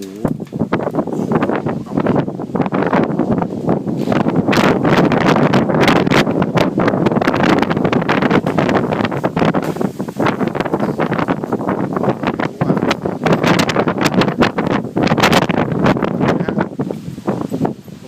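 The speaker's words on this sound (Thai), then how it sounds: "พายุมาแรงมาก" Strong storm wind blows outdoors in a sustained, loud roar of gusting air buffeting the microphone, with rustling throughout and no speech.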